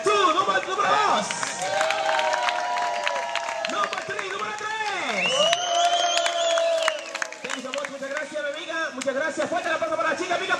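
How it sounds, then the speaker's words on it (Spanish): A crowd applauds, cheers and whoops for the contestants at a bikini contest in Punta Cana. The noise is lively and sustained, and an amplified announcer's voice and some music run through it. "mi aplauso para las chicas"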